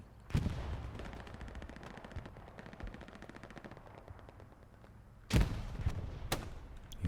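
Gunfire rattles through a forest battle in Hell Let Loose: steady automatic bursts and scattered shots run throughout, with two loud, close blasts near the start and the end.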